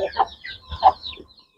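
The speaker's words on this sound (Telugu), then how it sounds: "పుంజు పిల్ల ఇది" A young breeding rooster chick clucks in a few short, soft calls of uneven rhythm, close by and fairly clear, with faint background noise and no talking over it.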